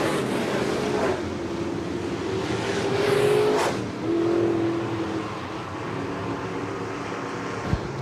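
Sportmod race cars battling on the dirt oval at Shelby County Speedway, a loud continuous engine roar with revving swells as the pack works through a corner, steady and close.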